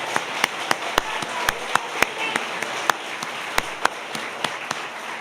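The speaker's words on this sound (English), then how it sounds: "Come on. Round of applause." Audience at the 40th Annual Public Service Award Ceremony applauding a workforce support honoree: scattered, uneven hand claps with distinct sharp individual claps over a low crowd murmur, moderately loud.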